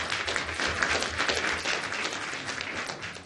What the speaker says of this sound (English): we can have a round of applause for Yeonju